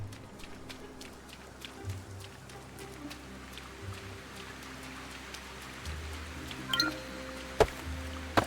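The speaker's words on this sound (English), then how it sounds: "Rain again?" Rain patters steadily in a feudal Japanese village in the game Sengoku Dynasty, soft and fairly faint, with occasional louder drips and a few small clinks over a low background hum.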